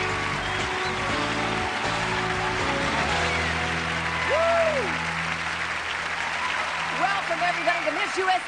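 A loud, rowdy audience applauds and cheers steadily for the hosts at the 2004 Miss USA pageant, with a host's voice and musical tones rising over the ovation.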